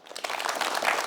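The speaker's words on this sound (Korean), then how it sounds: "큰 박수로 환영해 주시기 바랍니다" A studio audience applauds to welcome a city mayor onto the stage at a televised town-hall event, a burst of clapping that starts abruptly and swells into a full, steady ovation.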